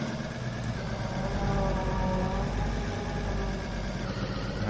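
A truck engine in Farming Simulator 22 runs at a steady idle, with a continuous even drone and no voices.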